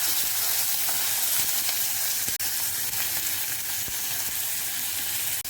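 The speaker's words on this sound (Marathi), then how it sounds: "आपल्याला तेलामध्ये परतून घ्यायचं आहे." Chopped onion and green chilli sizzle steadily in hot oil, a dense, even hiss that carries on without pause, with a couple of faint clicks from a stirring spoon.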